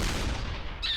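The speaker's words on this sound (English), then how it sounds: "Here we are using Kiss. Tier 1." A short noisy blast from the Kiss weapon being fired in ShellShock Live, a brief burst that fades quickly into a faint high tone near the end.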